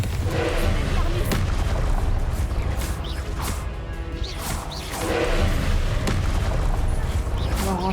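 Spell blasts from the video game Hogwarts Legacy during a boss fight, heavy booms and crashing impacts in dense succession over a continuous loud game soundscape, with casting incantations spoken over the action.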